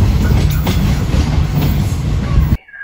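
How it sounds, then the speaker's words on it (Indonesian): An airport rail line train on the Adi Sumarmo International Airport route passes close by, a loud steady rumble of wheels and carriages that cuts off abruptly near the end. "Oke, kereta bandara Bias, Bandara Internasional Adi Sumarmo dari arah utara."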